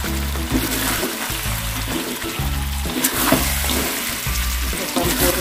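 Chicken pieces frying in a pan of cooked barbecue sauce, a steady bubbling sizzle with wet stirring and clattering, continuous and close throughout.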